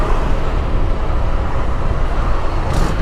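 Dense road traffic rumbles on a highway in light rain where a container truck trailer has tipped over, a steady broadband wash of engines and tyres close by, with no talk.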